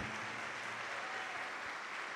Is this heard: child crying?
no